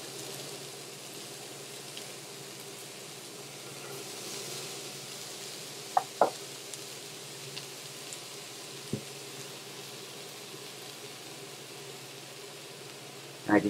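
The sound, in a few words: Beyond Meat plant-based sausage sizzling as it cooks in a pan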